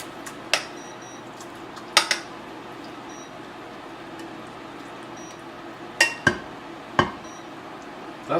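Lasagna ingredients being moved into a pan, giving a few sharp clinks and clatters of utensil and dish spread across a quiet kitchen background, with sparse isolated knocks rather than a steady rhythm.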